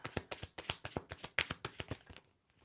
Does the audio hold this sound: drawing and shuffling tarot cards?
yes